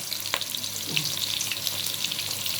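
Onions for Egyptian koshari frying in hot oil, producing a constant dense sizzle and crackle close up, with a faint clink or two of a utensil in the pan.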